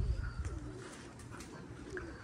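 A racing pigeon coos softly at a loft, a few low, rolling coos over a quiet background hum, fairly close but faint.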